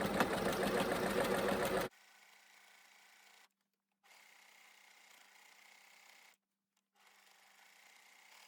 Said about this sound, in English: I'm going to start overlocking around this